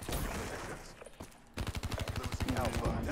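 A rapid-fire long-barrel weapon in Call of Duty: Black Ops 3 sounds a fast, steady burst of rattling shots in the second half, following a noisy stretch of game sound with speech mixed in.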